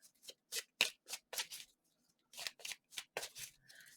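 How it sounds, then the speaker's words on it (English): Tarot cards being shuffled by hand in a series of quick, crisp riffling bursts, with a short pause midway, close and fairly quiet with no talking. "why do I keep going to shuffle the cards?"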